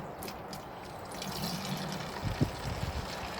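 Tap water trickling and pouring into a detailing spray bottle being topped up to 500 ml, a soft steady stream close by with a few louder splashes near the end.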